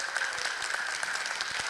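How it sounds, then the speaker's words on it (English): A church congregation at a Lutheran congregational meeting and Sunday worship gives a short burst of steady applause, dense and even, heard from a moderate distance with no voices over it. "I'd like to give them a round of applause now"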